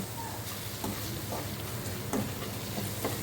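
Egg bread curry is stirred in a pan, a soft continuous scraping and faint sizzling with occasional spoon taps against the metal, quiet and close, with no talk.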